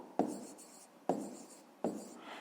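A pen writes out a maths answer by hand in three short scratchy strokes, each starting sharply and trailing off, close and quiet.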